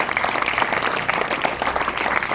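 Sustained, dense audience applause at a math quiz competition, steady and fairly loud throughout with a faint voice underneath.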